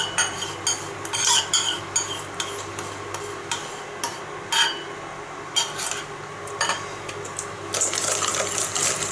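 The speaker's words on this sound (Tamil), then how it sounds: "இதையும் நல்லா mix பண்ணிடலாம்." Melted butter stirred into wheat-flour banana bread batter: a utensil scrapes and clinks against the bowl in an irregular rhythm, close up, with no talking.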